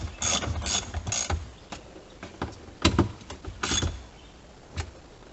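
A ratchet tightening bolts on the DEF tank of a 2014 Chevy Cruze Diesel, quick bursts of close clicking with pauses between strokes, fairly loud and with no talking.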